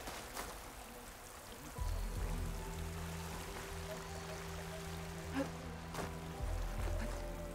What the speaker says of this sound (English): Oh, you mean these waterfalls?